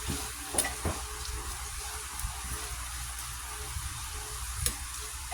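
Bitter gourd (ampalaya) and tofu cooking in a pan, a soft steady sizzle with a few faint clinks and stirring scrapes, quiet and close, no voices.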